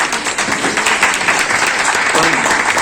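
A crowd applauds at a public meeting in Amravati about a self-help group mall, giving a dense, continuous clatter of many hands close by while a speaker's voice carries over it.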